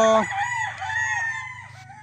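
An Allen Roundhead gamefowl rooster on conditioning feed crows loudly and close by, one harmonic call held for about two seconds and tapering off.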